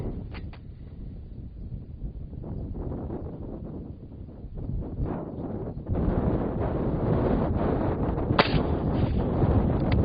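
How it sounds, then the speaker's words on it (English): Wind at an outdoor rifle range buffeting the microphone in a continuous low rumble that grows stronger partway through, loud and close, with a single sharp report far off near the end and no talk. "Little wind."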